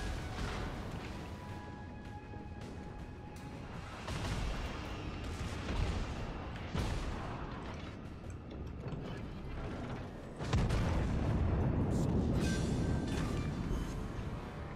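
Naval artillery in a warship video game as an enemy battleship is sunk, with deep heavy blasts and rumbling impacts over a constant mechanical background, plus a louder surge of explosion noise near the end.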